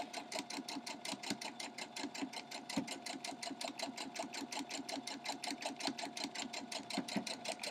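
Sewing machine stitching quilt block fabric for a sawtooth star block, a fast steady rhythmic mechanical patter running continuously, close and fairly quiet.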